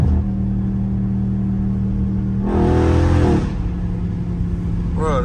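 A Dodge Scat Pack on a back road gives a loud, close engine drone that swells into a hard, rising rev for about a second before settling back to a steady rumble.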